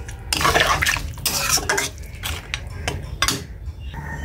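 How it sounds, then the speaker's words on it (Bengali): A spoon stirs chicken curry in coconut milk in a metal pot, scraping and clinking steadily with wet sloshing, loud and close, with no talking. "তো নারকেলের দুধে আমি ভালোভাবে মিশিয়ে নিচ্ছি"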